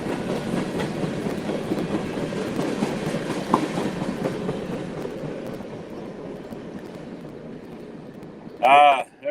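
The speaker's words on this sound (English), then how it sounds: "just having the train go by right at the top of the broadcast" A train rumbles past a trackside spot in Ohio steadily with a low, continuous roar and rhythmic clatter of wheels, fading toward the end before a brief burst of voices.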